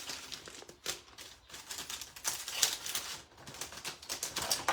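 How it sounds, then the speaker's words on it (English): A small plastic bag holding leftover foam pieces is handled up close, giving irregular crinkling and rustling bursts with short pauses between them. "And then I just have a little bag, plastic bag that I put my extras in"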